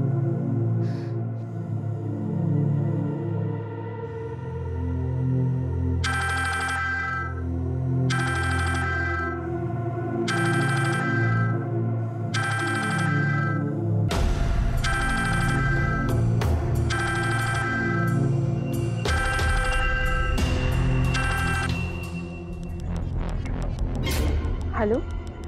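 An electronic phone ringtone repeats in several bursts over a musical background, with voices and busier sounds coming in partway through.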